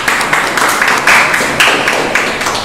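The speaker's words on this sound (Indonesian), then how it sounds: "Tepuk tangan untuk Bung Farhan." An audience applauds a speaker at a student debate on choosing wise leaders, a loud, continuous patter of many hands clapping nearby, steady throughout with slight surges and no talking.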